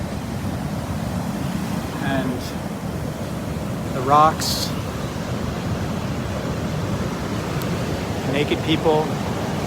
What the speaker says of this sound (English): You guys want to see this, the ocean?